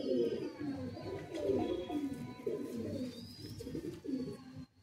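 Madrasi pigeons coo continuously in a loft, several birds overlapping in soft, throaty rolling calls, close and fairly loud, with no talk.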